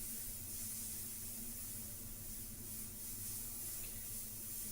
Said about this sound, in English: you definitely can get like really micron-like detail with this